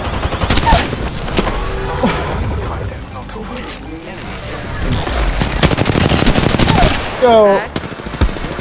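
Rapid, loud bursts of automatic gunfire in Apex Legends while playing as Caustic, continuous close shooting with booming impacts, and a player talking over the action.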